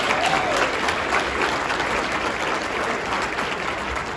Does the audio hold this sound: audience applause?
yes